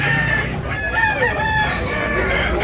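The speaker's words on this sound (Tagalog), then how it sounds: "Daming manok mga idol." Roosters crow repeatedly over steady clucking from a large number of chickens at a Tabunok, Cebu market, the calls close and loud against a continuous din.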